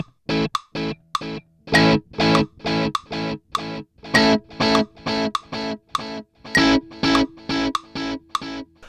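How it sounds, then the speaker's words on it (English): Short, crisp electric guitar notes play in a fast pulsing rhythm, each echoed by a dotted-eighth-note delay that fills the gaps into a rolling cascade. "This is going to be when you set the delay at a dotted eighth note."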